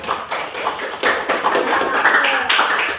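A classroom audience breaks into a burst of applause, with dense, steady clapping from many hands lasting throughout at moderate, close-range volume.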